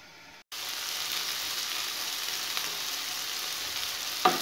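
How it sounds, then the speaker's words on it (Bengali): Onions sizzle steadily in a pan, lightly salted and cooking for a Bengali fish jhal, a close, even frying hiss that cuts in after a brief gap and holds to the end. "পেঁয়াজ ভাজাটা হচ্ছে"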